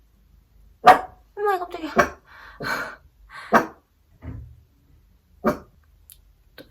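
Several dogs bark indoors in sharp, separate bursts with short pauses between them, close and loud, while a woman lets out a startled exclamation.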